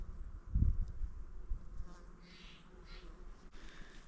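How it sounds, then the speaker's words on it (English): Swarming bumblebees buzz in a low hum close by, with a brief louder drone near the start, over a quiet outdoor background in Modoc National Forest. "let me video these bumblebees without getting stung"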